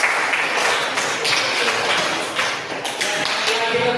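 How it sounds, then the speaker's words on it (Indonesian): A classroom group claps for the third team, a dense patter of hands that rises and fades over a few seconds, close and fairly loud, with voices mixed in. "beri aplaus untuk kelompok 3."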